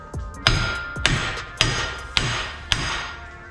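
A hammer driving a socket onto a rear axle nut of a 1980s BMW E28: five sharp, evenly spaced metallic strikes about half a second apart, close and loud, each ringing briefly, with no talking.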